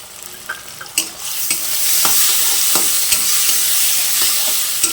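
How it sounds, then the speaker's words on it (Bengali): Two medium tomatoes go into a pan of softened frying onions and get stirred, bringing a steady sizzle and sharp clicks of the spoon against the pan, with no voices. "এখন আমি 2টো মাঝারি টমেটো দিয়ে দিলাম।"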